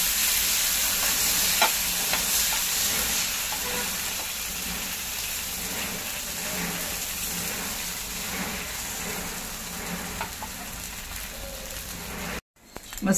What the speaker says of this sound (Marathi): आपण हे चांगलं असं हलवून घ्यायचं आणि कडेने असं सोडत घ्यायचं.